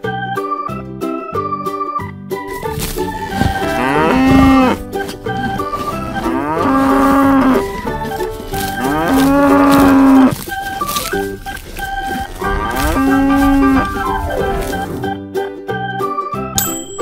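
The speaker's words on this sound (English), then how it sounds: "And now it's time for the cow." Several cows moo in turn in a farm animal learning setting, long loud lowing calls repeated about four times over a steady musical backing with faint jingling.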